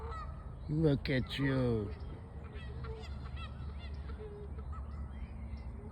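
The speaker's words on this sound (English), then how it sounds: "They say geese make good watchdogs" Geese give a loud, close burst of honking calls early on, then quieter honks continue against steady outdoor background noise, with a voice nearby.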